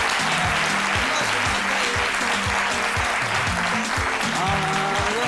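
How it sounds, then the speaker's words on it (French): Studio audience applause on a midday television show, loud continuous clapping over a rhythmic musical beat with low thumps, sustained the whole time. "Jean-Michel, qu'on applaudit très fort"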